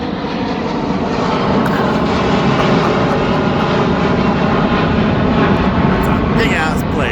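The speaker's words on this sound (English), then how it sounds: "That's a big-ass plane" A large airplane flying overhead, with a loud, steady jet-engine roar that builds slightly and holds for several seconds; a voice may be faint beneath it.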